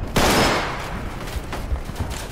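A Bradley fires in the Roblox war game Centaura, a sudden loud burst of gunfire that decays into scattered fainter shots and crackle.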